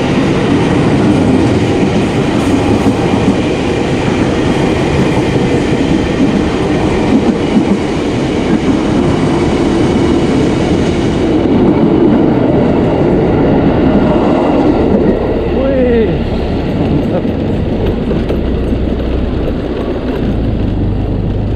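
A Tokyu 8500 KRL commuter train rolls past nearby in a loud, steady roar of wheels and rail clatter that holds for the whole stretch, easing slightly toward the end.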